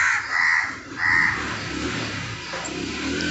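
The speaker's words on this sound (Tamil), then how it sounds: "காக்கா பாருங்க." Crows cawing in a garden tree, a few harsh calls repeating near and fairly loud over a steady outdoor hiss.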